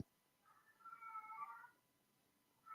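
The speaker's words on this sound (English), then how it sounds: "Can you hear my cat?" A house cat gives one drawn-out, wavering meow, faint and somewhat distant in a quiet room, with the start of another meow cut off at the end.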